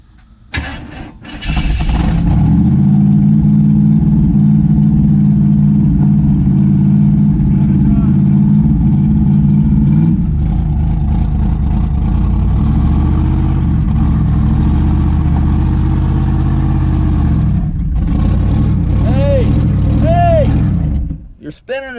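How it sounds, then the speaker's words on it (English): 1964 Chevy Impala SS convertible engine revving hard and holding a loud, sustained roar for many seconds while spinning the tires, then dropping off, with people talking over it. "spinning the tires."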